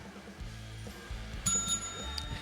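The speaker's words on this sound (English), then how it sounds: "let's just ring the bell first, Matt." A bicycle bell rings a few times in quick bright dings, close and clear, over a low background hum.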